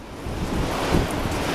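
Gusty wind buffeting the microphone on a coastal walking path in Cornwall, a low rushing roar that swells slightly midway, with no voices.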